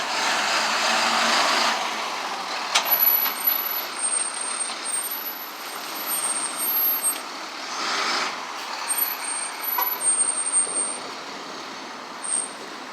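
Heavy tow truck maneuvering at a car accident scene on a busy city avenue, a steady engine rumble with hissing air-brake bursts and passing traffic, loud and continuous throughout.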